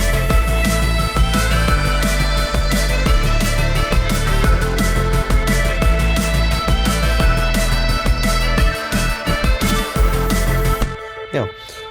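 Electronic drum loop with a dense full-band mix, its volume rhythmically ducked by ShaperBox and compressed, producing a steady pumping beat with repeated sharp hits before it cuts off abruptly near the end.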